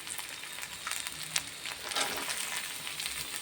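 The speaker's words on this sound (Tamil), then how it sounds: "வெங்காயம் கொஞ்சம் வதங்கட்டும்" Onions sautéing in a pan for vegetable fried rice give a steady, quiet crackling sizzle with a few faint spoon scrapes, heard alone.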